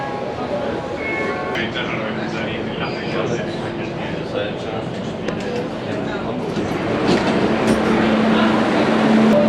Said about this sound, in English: one of the great ways to get around in Barcelona is with the metro